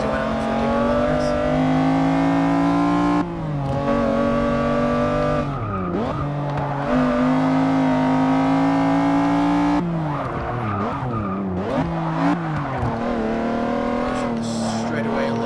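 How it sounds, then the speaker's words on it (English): McLaren F1 race car engine in the Forza Motorsport 6 video game, a loud sustained tone that repeatedly climbs through the gears and drops sharply on downshifts, with tire squeal and a voice talking over it. "The cars in Forza I've noticed sound a little bit deeper than in Gran Turismo"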